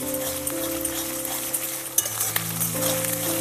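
Ginger paste stirred and fried in a pan for a duck curry, giving a steady close sizzle with occasional clinks of the spoon against the pan, with no talk over it.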